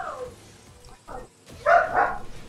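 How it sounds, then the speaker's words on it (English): A dog growls in the Mega Man 11 game on Nintendo Switch, giving a few short, rough, voiced bursts. A brief low rumble comes first, then two louder, closer growls near the end. "Why is my dog growling?"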